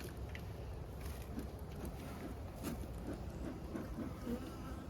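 Honeybees in a winter hive give off a soft, continuous buzzing hum, steady and fairly faint, with a few slightly louder swells and no voices.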